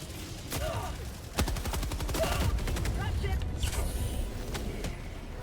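Game combat in Helldivers II with scattered gunshots and a rapid burst of automatic fire over mechanical creaks and clanks, someone talking throughout over the noise.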